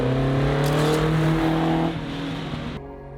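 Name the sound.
1972 Porsche 911 2.4 E rally car engine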